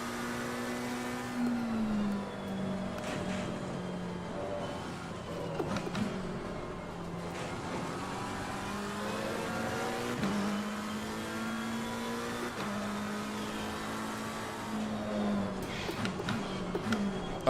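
Race car in Assetto Corsa Competizione pulls hard at full throttle, its engine note rising repeatedly through the gears with short dips at each shift, a steady close drone interrupted by brief clicks.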